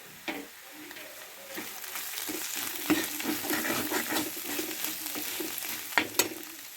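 Egg fry with chilli powder sizzles and crackles in a hot pan while a spoon stirs and scrapes in an irregular rhythm, with a few sharper clanks of metal.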